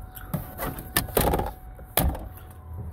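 Door of a 2009 Ford Ranger XLT extended-cab 4x4 pickup being opened and shut, a few close clicks and thuds of latch and panel in quick succession.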